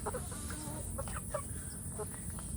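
Free-range Indonesian village chickens (ayam kampung), young birds already starting to lay, cluck in short scattered calls over a steady noisy farmyard background, with a few louder nearby clucks standing out.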